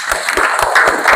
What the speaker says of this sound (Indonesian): Oke, cukup ya. Tepuk tangan dulu.